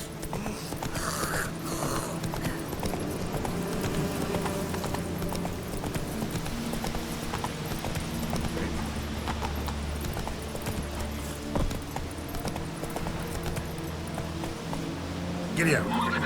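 In the video game The Witcher 3, a horse gallops with a steady, continuous clip-clop of hooves for the whole stretch, while a voice talks over it now and then.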